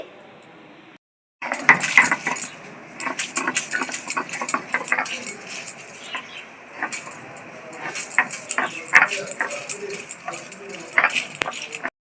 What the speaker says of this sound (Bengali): পেঁয়াজ আমি বেটে নিচ্ছি